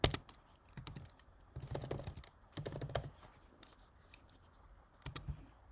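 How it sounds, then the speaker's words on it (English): Keys on a computer keyboard are typed in several short bursts of quick, soft clicks, separated by brief pauses, close and quiet. "I'm actually going to manually type it in all caps"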